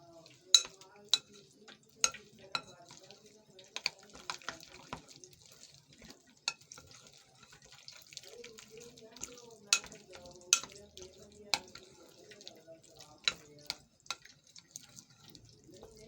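Cornflour and plain flour are stirred in a bowl for chicken manchurian batter, with a spoon tapping the sides in quick, uneven clicks and soft scraping between them, fairly close and quiet.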